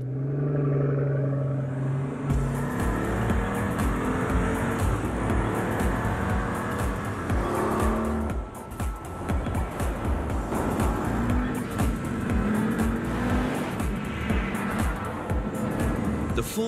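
A Pagani Huayra driving on a fast race track, its engine rumbling loudly and steadily, with rising revs and a brief dip midway.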